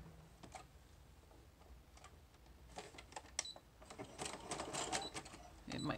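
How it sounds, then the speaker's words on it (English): Small sewing machine stitching through twisted packing paper, quiet irregular ticking and clattering bursts of the needle that grow busier toward the end, close and faint. "I'm going to try twisting it and sewing it."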